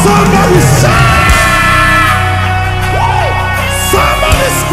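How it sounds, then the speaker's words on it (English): A church crowd at a praise event in Onitsha shouting and yelling loudly together, a dense continuous roar of voices with rising whoops over a steady low musical hum. "Somebody shout!"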